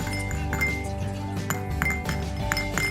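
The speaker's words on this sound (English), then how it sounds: "place a portion of the scored chestnuts into a heat-resistant glass bowl" Scored chestnuts set into a heat-resistant glass bowl, giving a run of bright clinks and taps of nuts against glass, close up with steady background tone and no talk.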